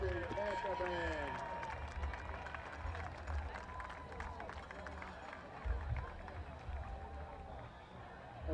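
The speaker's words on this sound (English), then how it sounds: "please give one more round of applause for the Marlborough High School Marching Panther Band" Crowd applause and scattered claps for the Marlborough High School Marching Panther Band, heard in the open stands at a high school varsity football game, a steady ragged wash mixed with crowd chatter and distant voices throughout.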